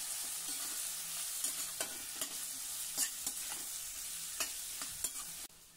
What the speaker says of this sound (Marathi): 4 ते 5 कढीपत्त्याची पानं आणि ही कापलेली तोंडली घालूया।